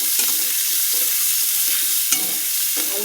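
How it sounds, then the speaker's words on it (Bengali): Potatoes sizzle as they fry in a pan with okra for a Bengali curry, with steady frying hiss and scraping stir strokes at a moderate distance; no one speaks. "এবার আমি আলুগুলো দিয়ে দিলাম।"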